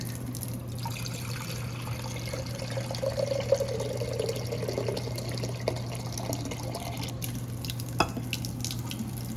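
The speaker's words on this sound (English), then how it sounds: "I'm going to fill it with 500 milliliters of water because we're going to be using this to measure" Water poured into a 1-liter laboratory beaker in a quiet lab, filling it to about 500 milliliters: a soft, fairly faint, steady pouring over a constant low hum, with no talking.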